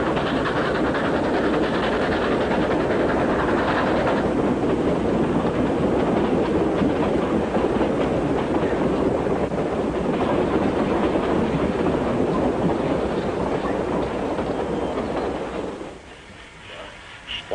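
A train runs on rails as a radio-show sound effect, a loud, steady rumbling clatter with rhythmic clicking that holds for most of the stretch, then drops away abruptly near the end.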